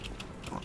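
A short, low pig grunt with a snuffling, nasal quality, close and clear.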